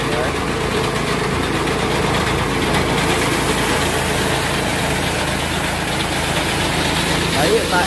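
A petrol engine fitted to a combined rice threshing machine built for terraced fields runs at a steady, loud, close drone with constant vibration and no pauses.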